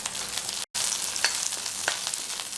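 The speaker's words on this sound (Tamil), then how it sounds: "இதை எடுத்து வெங்காயத்தை சேர்த்துக்கலாம். வெங்காயம் கொஞ்சம் வதங்கட்டும்." Onions fry in oil with dried chillies for a chutney, producing a close, bright sizzle with a momentary break and a few small pops, with no talking.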